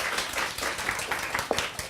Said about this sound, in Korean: 이 시간에 우리 박수로 우리 박홍수 목사님을 환영하겠습니다